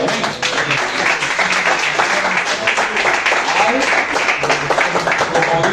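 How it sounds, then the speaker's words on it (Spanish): Congregation applause in a church service, a loud, dense burst of many people clapping that carries on steadily, with voices mixed in under the clapping. "Den fuertes palmas a Cristo."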